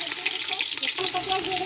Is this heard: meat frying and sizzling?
yes